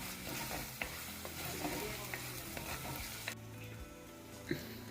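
Ginger garlic paste frying in a pan for gongura chicken, a dense steady sizzle with occasional spoon taps and stirring scrapes, fairly quiet and close, with no talk.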